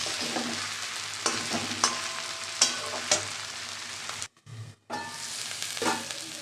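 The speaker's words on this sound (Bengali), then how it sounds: "দেখো শিম ভাজাটা একদম জল নেই, তেল ছেড়ে দিয়েছে" Broad beans frying in oil in a pan for a shrimp bean fry, a continuous sizzle broken by sharp scraping stirs at regular intervals and a short gap of near silence.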